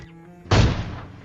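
A single gunshot in PUBG Mobile, played on an iPad, lands as a sudden loud boom that decays quickly after a quieter lead-in.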